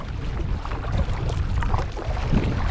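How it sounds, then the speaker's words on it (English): Wind blows across a shallow saltwater flat while a boat drifts, a steady, close rumbling buffet with gusts rising and falling and no talking. "You can hear that wind blowing."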